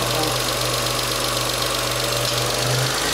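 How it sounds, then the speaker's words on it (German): Smart 453 Brabus engine held steady at about 1200 rpm, a continuous close idle-like drone with a rattling knock and turbocharger hiss over it, loud and unbroken throughout. "Das Geräusch ist vom Turbolader."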